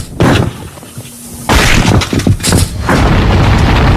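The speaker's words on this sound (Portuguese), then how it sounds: "Você mandou muito bem apontando o canhão para a bola de boliche." A simulated cannon shot at a bowling ball, heard as a loud booming impact followed by sustained, rumbling explosive roar and crackling debris, close and full over several seconds.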